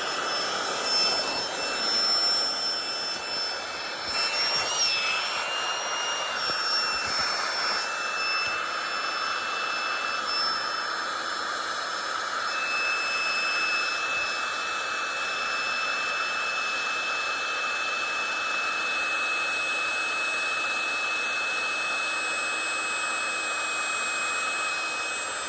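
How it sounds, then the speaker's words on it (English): A small Flextail Gear electric air pump inflates a camping pad outdoors, a loud continuous high-pitched whine and rushing hum that runs steadily and close throughout, with a slight pitch shift early on. "It's a flex tail gear, little pump."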